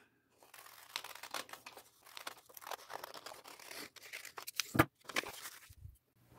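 Scissors cutting a folded sheet of copy paper into a heart shape, giving close, irregular snipping and crinkling with short gaps and one sharper crunch near the end, no talking.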